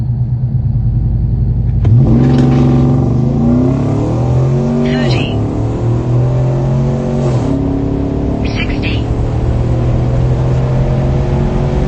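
A car with a 6.2 engine fitted with upgraded heads, cam and intake launches hard on a drag pull, loud and close, its exhaust rising through the gears with sharp pitch drops at each shift.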